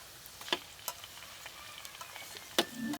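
Onion and spice paste frying in a pan for mushroom masala: a faint, steady sizzle with a few soft scrapes and clicks of stirring, no voices.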